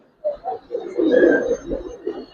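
Indian Allahabadi Kaldam pigeons coo in low, soft murmuring bursts that repeat steadily for about two seconds, close by and with no talking.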